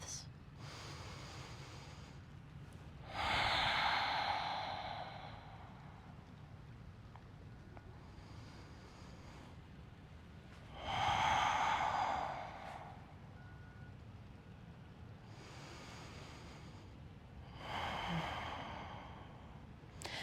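Slow, deliberate breaths during a gentle seated yoga twist, three long airy exhales spaced several seconds apart, close and soft over a quiet room hum.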